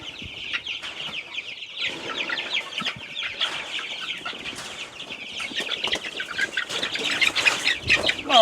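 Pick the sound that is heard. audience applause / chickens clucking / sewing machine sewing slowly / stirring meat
chickens clucking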